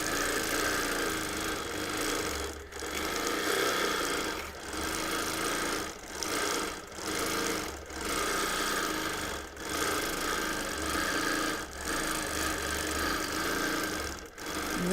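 A sewing machine free-motion quilting a baby quilt, running in a steady fast stitching hum with short pauses every second or two, close and fairly loud, no voices.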